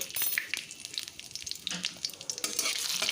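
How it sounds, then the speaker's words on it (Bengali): Whole spices (bay leaf, cinnamon stick, cardamom and cumin seeds) fry in hot oil with a steady, close hissing sizzle, broken by soft stirring scrapes, no voices. "এখন ফোড়নটা বেশ ভেজে নিচ্ছি ফোড়ন থেকে একটা সুন্দর স্মেল আসা পর্যন্ত ভেজে নেবো"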